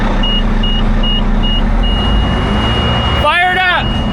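A surplus LVSR HEMTT military truck engine idles after starting, a loud steady low rumble with intermittent beeps, and a voice speaks briefly near the end.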